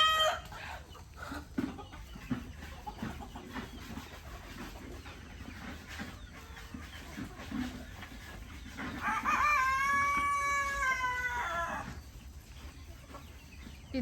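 A rooster on a chicken farm lets out one long, clear crow in the latter half, over steady farmyard background noise with scattered clucking.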